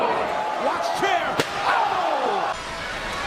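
A chair slam in a stop-motion wrestling match: a sharp crack near the middle rises over a busy crowd roar and sweeping effects, while an excited commentator talks throughout.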